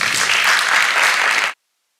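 Loud, dense audience applause at a community forum, welcoming Dr. Michael Triplett, sustained evenly for about a second and a half before cutting off abruptly into silence.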